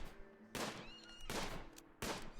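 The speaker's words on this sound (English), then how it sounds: "semi-automatic rifle with 15 damage per shot" Three loud, sharp semi-automatic rifle shots ring out from a RimWorld game, roughly three-quarters of a second apart, each a broadband crack with a short decaying tail over a low steady hum.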